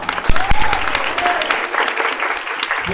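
A conference crowd at a religious gathering in Gorakhpur claps loudly and briskly, the close, dense applause mixed with a few whoops and voices.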